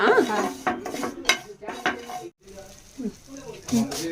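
Thin vermicelli frying and being stirred in a pan for an iftar sweet, giving scraping utensil strokes against the metal with a soft sizzle underneath, close and fairly loud, with brief pauses between stirs.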